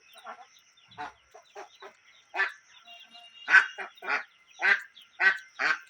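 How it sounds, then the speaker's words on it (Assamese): Two ducks and their ducklings give a run of short, nasal quacking calls, irregular and fairly close, in a quiet setting with no talk. "এইবোৰ হ'ল আমাৰ হাঁহৰ পোৱালি আৰু দুটা হাঁহ আছে ইয়াতে"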